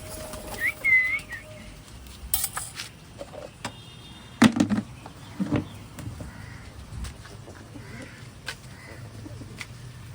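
Pigeons flock in for food outdoors, with scattered calls, a few sharp caws and bursts of flapping wings against a quiet background. The sounds come in irregular clusters at close to moderate distance.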